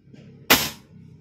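A homemade DIY airgun fires once, a single sharp loud crack that decays quickly against a quiet background.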